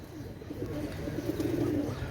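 Pakistani Imamdin pigeon cooing, a low murmuring coo repeated in a steady rolling rhythm close by, moderately loud and continuous, with no talk over it.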